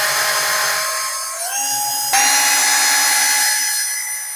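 A power drill whines steadily while backing screws out of a ceiling light mounting bracket, its high pitch shifting a couple of times as the motor loads and releases, close and loud with no talking.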